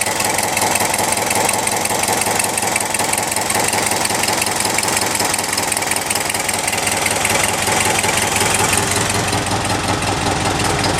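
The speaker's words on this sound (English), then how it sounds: "Here's the exhaust leak over here." A 1972 International Harvester Travelette 1210 crew cab 4x4 truck idles steadily with a leaking exhaust, its engine giving a loud, continuous low rumble with a rapid rhythmic puffing tick throughout, no voices.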